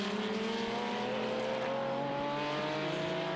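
A Ferrari P3 race car runs on track at a Le Mans Classic event, its engine note rising steadily as it passes, loud and sustained with no voices over it.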